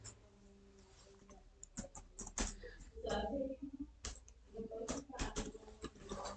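Soft, quick computer mouse clicks tap out irregularly while someone fills in name, mobile number and OTP details on an online police verification form, with a person talking over them.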